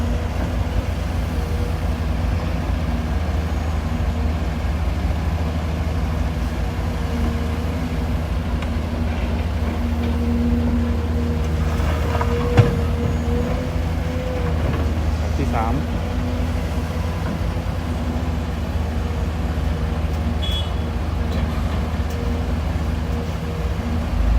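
A deep, steady diesel rumble fills the scene as an excavator at a pit scoops soil into a ten-wheel truck, with a single sharp knock partway through and someone talking over the engine noise.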